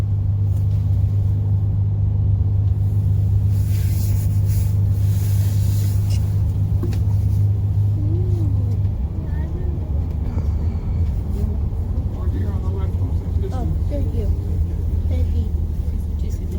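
Zion Canyon shuttle bus driving in December, a steady low engine rumble and road roar that lightens partway through as the bus slows, with a recorded narration voice speaking over it.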